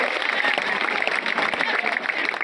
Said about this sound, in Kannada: ಜೋರಾಗಿ ಚಪ್ಪಾಳೆ ಹೊಡೆದು ಸ್ವಾಗತ ಮಾಡಿಕೊಳ್ಳಿ